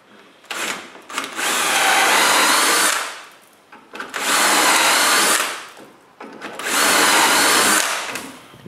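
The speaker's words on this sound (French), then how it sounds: "je perce les trous sur l'autre morceau" Three bursts of a power drill boring dowel holes into a piece of wood for a doweling jig, each whine lasting about two seconds with short pauses between, loud and close with no talking.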